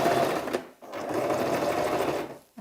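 A sewing machine stitches the hem of a kaftan dress with a continuous close whirring run. It pauses briefly partway through, then resumes steadily, and there is no talk.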